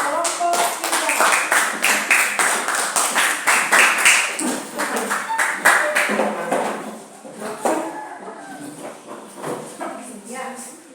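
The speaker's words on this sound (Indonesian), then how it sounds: "kita beri aplaus untuk kelompok 3" Classroom applause for a student group: a steady stretch of many hands clapping, fairly close and lively, with some voices mixed in beneath.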